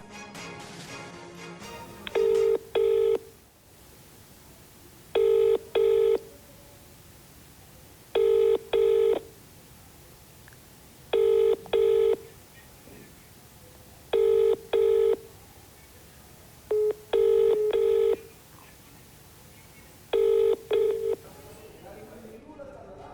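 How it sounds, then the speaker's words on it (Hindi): A phone ring-back tone for an unanswered call repeats in evenly spaced double bursts about every three seconds, going on with no answer over a steady background hiss. "घंटी बजती रही लेकिन विधायक महोदय ने फोन नहीं उठाया"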